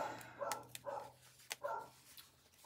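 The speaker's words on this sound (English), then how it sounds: "Listen at my silly dog." A dog barks in short bursts, several sharp yaps spaced across the moment with brief gaps, close by in a quiet indoor room with a faint steady hum underneath.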